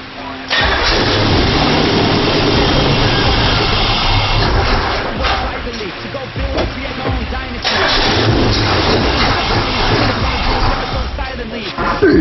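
Corvette engine cranking and firing up, then settling into a loud, close, steady rumbling idle with slight variations in revs, captured in a garage setting.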